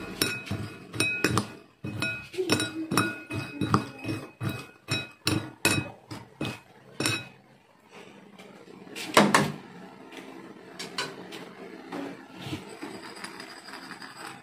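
Rambutan seeds being stirred and roasted in a pan, giving a rapid run of sharp, close scraping clinks and rattles that thin out into scattered clatters partway through.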